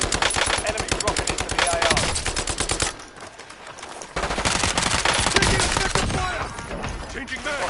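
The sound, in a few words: gunfire in the video game Call of Duty Warzone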